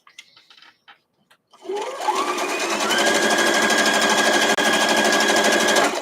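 A quilter's sewing machine stitching a quilt block starts up after a short quiet, then runs as a loud, steady whirring drone with a rapid needle rhythm for several seconds.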